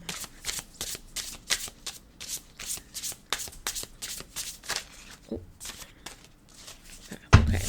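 Oracle cards shuffled by hand in a long run of quick, rhythmic riffling bursts at close range, with a brief pause near the end and a louder knock at the close.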